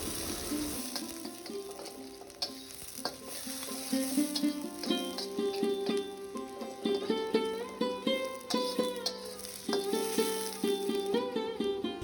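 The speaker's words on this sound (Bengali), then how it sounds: "পেঁয়াজটা ততক্ষণই ভেজে নিব যতক্ষণ না এটা হালকা বাদামি রং হয়ে যায়।" Onions frying in mustard oil with cardamom pods and a piece of cinnamon, a steady close sizzle with occasional stirring, heard under background music throughout.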